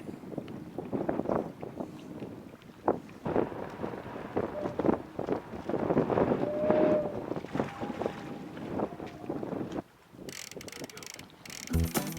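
Gusty wind buffets an outdoor microphone near a camera stand weighted with rocks, a loud, uneven rumbling roar with brief creaks and rattles, ending in a few sharp handling clatters.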